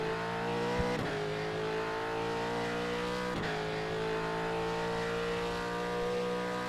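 A V8 Supercar in a sim racing game accelerates steadily, its engine note climbing through the gears with two sharp upshift breaks, loud and close from start to finish with no talk.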